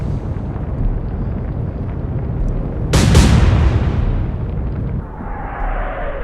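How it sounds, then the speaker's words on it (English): A warship's forward guns fire in the naval video game Atlantic Fleet, one sharp booming blast rising over a constant low rumble of sea and engine, followed by a rolling decay and a faint rising whistle. "the 2 forward guns there, forward guns I should say, firing"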